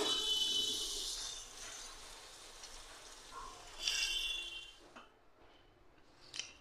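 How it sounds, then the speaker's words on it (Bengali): Paneer pieces fry in hot oil with a soft, crackling sizzle that is strongest at first, then fades, with a few brief louder spatters. "আগে পনিরের টুকরোগুলো ভেজে নিচ্ছি।"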